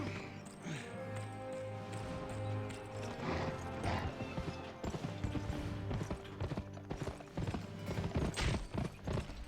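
Horse hooves clip-clop in a steady rhythm with occasional whinnies, over game music and sound effects from the PS2 western game Gun, moderately loud throughout with no speech.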